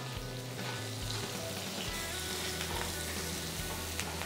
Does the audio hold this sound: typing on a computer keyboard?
no